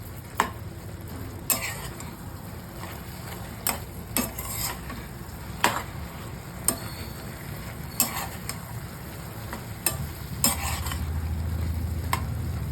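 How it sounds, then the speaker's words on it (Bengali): Food is stirred in a pan with salt, turmeric and a little sugar, spoon scrapes and clinks recurring every second or so over a steady low sizzle that swells toward the end; no one speaks. "এখন এটাকে একটু নাড়া দেব।"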